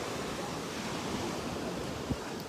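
Sea waves wash steadily at a free public beach, a soft continuous surf hiss with light wind, faint and close, and no talking.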